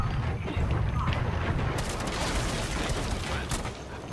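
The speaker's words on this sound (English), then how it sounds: "Cluster charge deployed." Cluster charges detonating in a shooter video game, a dense continuous rumble of overlapping blasts and crackling gunfire that stays loud throughout.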